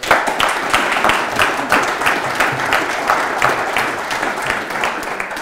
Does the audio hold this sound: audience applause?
yes